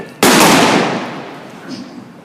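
A single loud gunshot in a street gunfight in an old western town, a sharp blast that rings out and decays over about two seconds.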